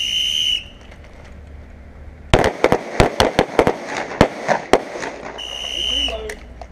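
Rapid handgun shots crack out in a close, loud volley on an outdoor shooting range during a firearm requalification, with whistle blasts before and after the string of fire.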